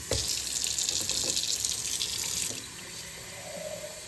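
Tap water gushes steadily from a faucet for a couple of seconds, a bright continuous hiss that then cuts off, leaving a quieter trickle and drips into a sink.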